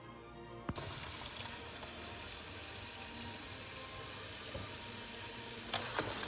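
Water running and splashing steadily into a sink where dusty figurines are being soaked, a continuous broadband rush with a couple of small knocks near the start and end.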